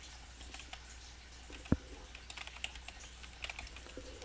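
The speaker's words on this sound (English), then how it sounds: "we're gonna click on the E in our bookmark, type extracorporeal," Quiet, steady typing on a computer keyboard entering a search term in a medical coding lookup, soft key taps with one sharper click, no speech.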